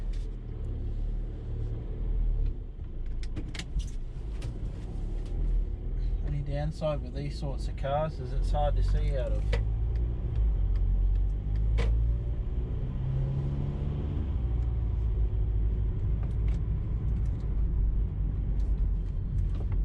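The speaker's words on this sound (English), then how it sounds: "I'm in a Volkswagen Caddy." A Volkswagen Caddy drives along a road, a steady low engine and road rumble heard from inside the cabin throughout, with someone talking over it partway through.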